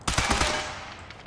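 Gunfire in the video game Sniper Elite 5: a quick burst of several loud, close shots in the first half second, then a fading echoing tail.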